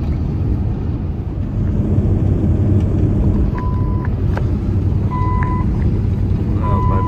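A car's warning beeper sounds short, high single beeps about every one and a half seconds while the car crawls slowly along a road near Moab, Utah, over a steady engine and road rumble.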